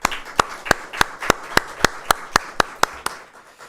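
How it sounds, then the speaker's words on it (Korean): A church congregation claps together in a steady rhythm, with about a dozen crisp, evenly spaced unison claps in a reverberant sanctuary. "우리 찬양대에게는 또 격려의 마음 담아서 우리 함께 크게 박수할까요?"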